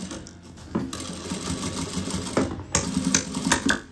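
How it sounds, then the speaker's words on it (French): An industrial sewing machine drives its needle through ten layers of tulle and lining, a steady close mechanical whir with slight surges and a rhythmic stitching pulse throughout. "J'ai donc je crois 10 épaisseurs qui sont en train de passer sous la machine."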